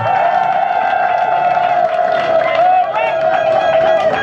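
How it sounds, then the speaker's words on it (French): Crowd noise at a political campaign rally in Yaoundé's Cité Verte Nord, Cameroon: a loud, steady wash of applause, cheering and babble with a sustained tonal whistle or horn running through it. "Sous vos applaudissements, s'il vous plaît."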